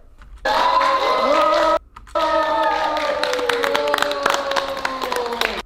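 A crowd claps to welcome an arriving legislator as a guest. Scattered sharp hand claps build over tonal music and voices, growing denser toward the end.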